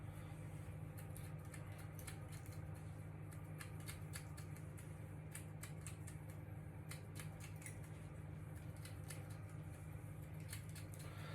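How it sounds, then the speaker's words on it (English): Thinning scissors feather hair during a men's haircut, giving a rapid series of faint, crisp snips over a steady low hum. "we're just feathering that out a little bit with our thinning scissors"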